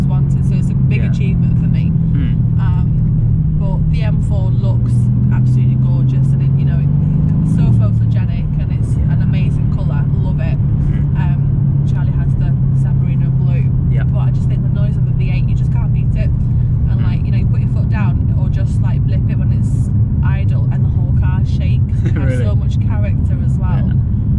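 A Mercedes C63 AMG with a 624bhp V8 drones steadily and loudly up close, its deep engine note rising and settling once midway, while people talk over the constant rumble.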